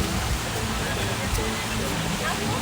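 Waterfall at a stingray lagoon, a continuous broadband rush of falling water close by, steady throughout.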